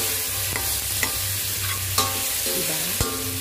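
Lechon kawali and vegetables sizzling in a pan for sinigang, a steady close frying hiss with a low hum and a few sharp spatula clacks against the pan, no voices.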